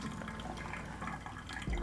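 Hot water pours steadily into glasses to warm them before brewing V60 pour-over coffee, a continuous close splashing fill that ends with a soft thud.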